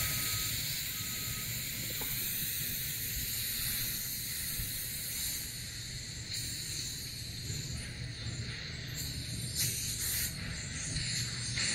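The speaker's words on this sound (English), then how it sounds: "Okay, so I got my sprayer and last few days it's been clogging up" A garden pump sprayer with a clogging nozzle gives a steady, close, airy hiss that runs unbroken for the whole stretch, with no talking.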